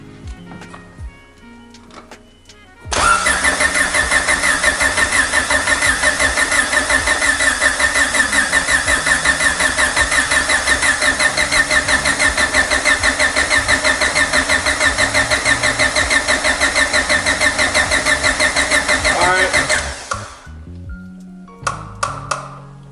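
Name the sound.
Honda B16 engine cranking in EF hatchback, first start-up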